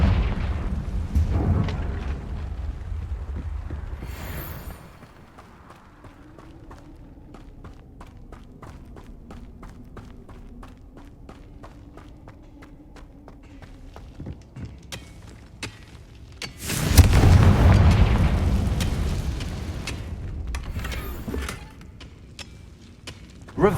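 A Confringo blasting spell explodes in Hogwarts Legacy: a loud, booming blast erupts partway through, set among quieter game ambience with scattered footsteps and rumbling, and another heavy burst opens the scene.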